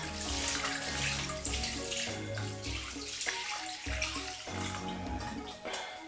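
Salty brine being poured over a wheel of homemade parmesan cheese in a container, a steady splashing, gurgling pour with music-like tonal bands running underneath throughout.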